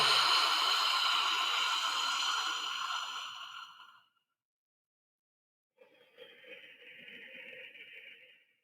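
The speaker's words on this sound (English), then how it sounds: "Let's breathe in." A slow, deep breath during a guided calming exercise: a long, steady airy exhale fading out, a pause of silence, then a softer drawn-in breath, close to the microphone with no talking.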